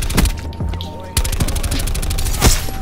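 Gunfire from an MX9 submachine gun in the shooter Black Ops 4, with sharp repeated shots in quick bursts, loud and close, one heavier report near the end. Speech runs underneath.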